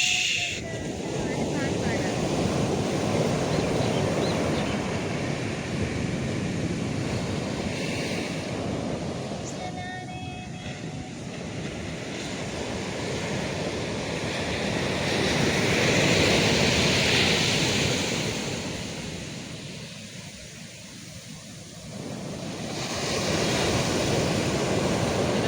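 Ocean waves break on Yarada Beach in Vizag at sunrise, a loud, continuous surf roar that swells and recedes, with wind buffeting the microphone and a brief faint voice.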